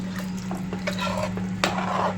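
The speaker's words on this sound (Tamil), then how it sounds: "நல்லா கிளறி விட்டுக்கலாம்" Ghee rice mixture stirred in a pot, with soft repeated scraping and sloshing strokes of a spoon over a steady background hum.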